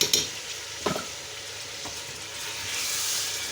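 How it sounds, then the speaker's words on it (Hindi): Steady sizzling of meat frying in a pan with garlic ginger paste, with a couple of sharp scraping stirs near the start, close and moderately quiet. "गोश्त के साथ ही फ्राई कर लेंगे"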